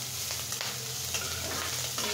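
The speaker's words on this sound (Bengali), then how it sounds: "এখন আমি শাকটা দিয়ে দিচ্ছি।" Greens are fried with small prawns in a pan, giving a continuous, fairly loud sizzle with brief stirring scrapes layered on top.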